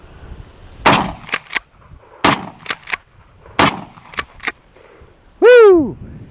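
Gunshots from a Keg .410 shotgun fired at a shooting event, several loud sharp cracks in uneven pairs and clusters, close and punchy, followed by a brief sweeping harmonic whistle-like tone near the end.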